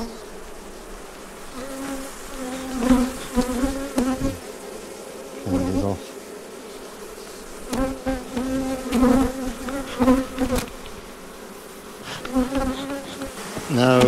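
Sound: disturbed honeybees buzzing around hive

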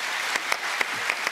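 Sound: applause from a TV show audience

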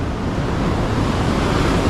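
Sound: ocean waves crashing on beach

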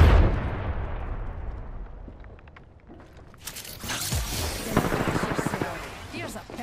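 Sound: grenade explosion in Apex Legends video game

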